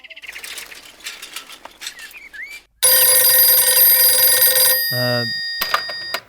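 A telephone bell rings loudly in a scene from the Hindi-dubbed South Indian film Sandakozhi. One long, continuous burst of ringing follows quieter ambient sounds and brief bird chirps.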